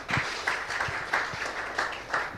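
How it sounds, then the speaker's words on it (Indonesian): Applause from a crowd, rhythmic claps coming in regular bursts, moderately loud and steady with no voices on top. "boleh tepuk tangan juga untuk Mas Indro"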